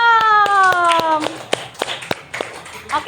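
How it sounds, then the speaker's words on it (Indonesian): Children in a classroom clap their hands in a quick rhythmic burst of sharp claps, with a voice calling out over the first second and scattered claps trailing off afterward. "tepuk tangan"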